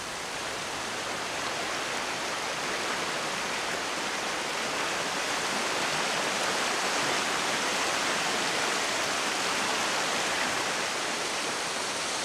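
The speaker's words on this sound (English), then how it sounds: "it's water like this in streams and rivers that's responsible for moving all these grains" Water rushes steadily down a stream carrying sand grains from granite upland toward the beach, a dense, close, unbroken hiss of flow with no pauses or voices.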